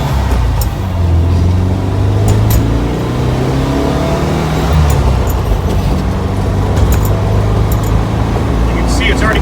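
Turbocharged Volkswagen Bay Window bus pulling away under acceleration, a loud, steady engine drone with rising harmonic tones recorded from inside the cabin, with a few brief clicks and rattles above it.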